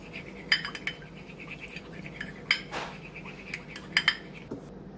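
Eggs and milk being whisked together in a bowl for chicken parmesan, giving intermittent clinks of utensil against the dish with a few sharper taps over a quiet kitchen background.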